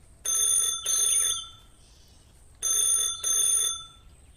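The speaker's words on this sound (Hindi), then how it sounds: "तभी उसका फोन बजता है" A telephone rings in two double-trill bursts separated by a pause, bright and electronic, fairly close with no talking.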